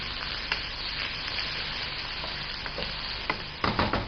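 Spicy chicken masala with garlic and ginger paste frying in a pan, an even close sizzle broken by a few sharp clicks and scrapes of stirring near the end.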